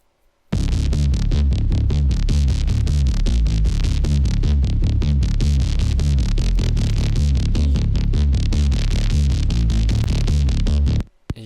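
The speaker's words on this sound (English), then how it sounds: "You can hear how this distortion comes and goes" Heavily distorted, dense sound design built with an Obscene effect chain for DOOM, a loud continuous throbbing roar with rapid pulsing modulation across the whole range, starting and cutting off abruptly.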